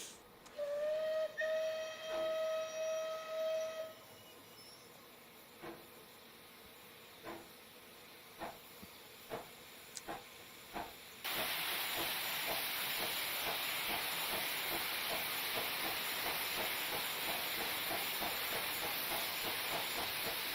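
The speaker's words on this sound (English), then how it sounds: "Listen to that, chuffing away." In Train Simulator Classic, a steam locomotive sounds a short whistle, then chuffs in slow, spaced beats. A loud, continuous rush of steam takes over partway through.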